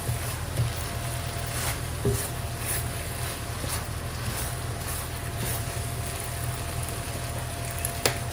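Spicy Korean-style chicken feet frying in a wide pan, a continuous dense sizzle with repeated soft scrapes of a utensil along the pan bottom at a steady pace, close and without talking.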